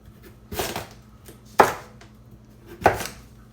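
Three separate knife chops cut through vegetables on a cutting board while preparing an oven-roasted keto chuck roast, each a crisp close thud spaced about a second apart, with quiet kitchen background between them.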